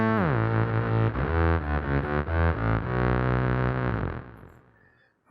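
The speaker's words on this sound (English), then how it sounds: "So number 2 here will pitch shift to a higher octave." Electric guitar run through a BOSS SY-200 synthesizer pedal set to shift pitch up an octave, a loud, buzzy synth-like melody of sustained notes that slides and changes pitch before fading out near the end.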